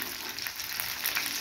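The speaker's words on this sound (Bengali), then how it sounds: "মাছ ভাজাও একটু দারুণ হচ্ছে।" Fish fries in a pan with a continuous, even sizzle and crackle, close and moderately loud, with no voices.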